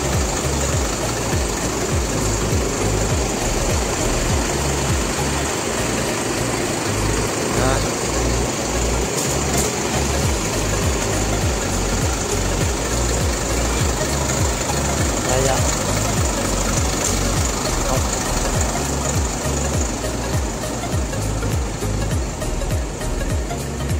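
A Hino FM280 diesel engine in an Adiputro Jetbus 5 coach idles steadily, a continuous low rumble with vibration and a faint knocking texture throughout, heard from close by.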